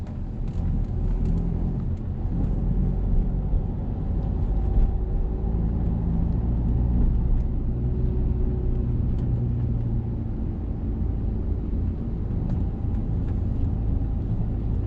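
A car pulls away during a driving lesson, heard from inside as a steady, close, low engine rumble that runs throughout with no talking.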